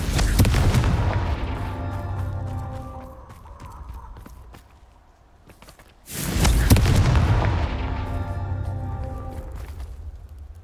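Two booming magical blasts from the Confringo fire spell in the Hogwarts Legacy video game, each a loud sudden burst with a long rumbling decay, the second following about six seconds after the first.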